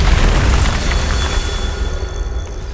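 Bombarda spell blast in Hogwarts Legacy, a loud close boom that opens the clip and rumbles off into a decaying debris tail.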